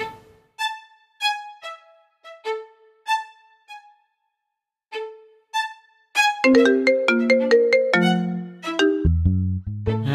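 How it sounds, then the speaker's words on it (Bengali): A mobile phone rings with an incoming call, a melodic ringtone of repeated bright chime phrases that gives way to a fuller, louder musical tune, heard close and alone. "আমি ফোন দিব।"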